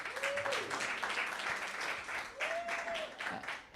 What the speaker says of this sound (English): Give it up for yourself,